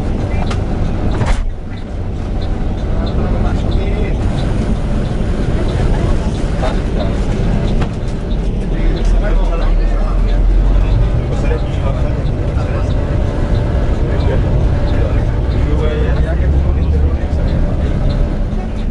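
A luxury Sarwonadhi Trans coach with air suspension rolls away from Purabaya terminal in Surabaya, a steady low engine and road rumble heard from inside the cabin, with occasional faint rattles and a voice now and then.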